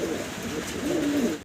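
A fancy domestic pigeon in a loft gives a close, clear rolling coo lasting about a second, heard alone without talk.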